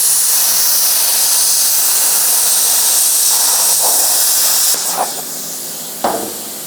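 A plasma cutter hisses steadily as it slides along a straight edge cutting metal during a root ripper blade build, a loud continuous rushing hiss that thins out near the end with a few short crackles.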